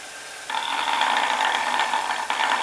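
Wood lathe spinning a turning blank with a roughing gouge laid on top of the rotating wood, giving a steady mid-to-high buzzing rattle that starts abruptly, runs continuously, and dips briefly before resuming.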